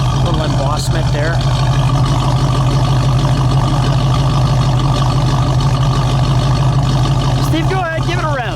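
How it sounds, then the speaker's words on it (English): A 1970 Oldsmobile Toronado GT with a 455 V8 idles steadily, a loud, low, rhythmic drumming rumble held up close throughout. "we'll listen to that idle. Just listen to that drum beat."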